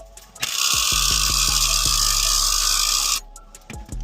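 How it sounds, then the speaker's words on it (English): An impact wrench (rattle gun) on a strut nut of a Ford Fairlane during a strut change, a loud continuous whirring burst of about three seconds with rapid hammering, stopping abruptly, followed by a few metallic knocks. "Maneuver this so rattle gun fits."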